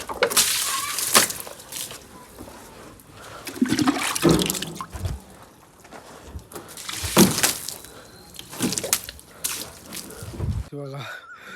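Water sprayed from a tanker supply to cure the fresh concrete of a newly built house, heard as repeated splashing, hissing bursts that rise and fall over several seconds, with voices nearby.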